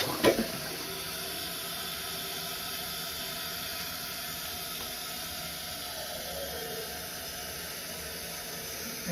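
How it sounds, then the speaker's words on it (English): A newly installed toilet flushes for the first time, a sharp click of the handle followed by a steady rushing and hissing of water draining and the tank refilling, close and moderately quiet, with no talking. "now it is the first flush"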